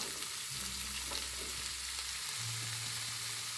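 Bottle gourd (upo) sautéing in a hot pan for ginisang upo: a dense, steady sizzle with a low hum underneath, continuous and fairly loud throughout, no voices.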